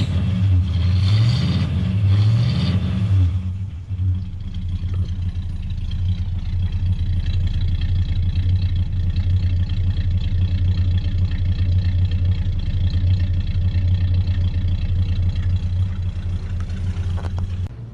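A 1970s Ford Galaxie V8 gets a couple of loud revs, rising and falling twice, then settles into a deep, steady, rumbling idle that runs on nearby.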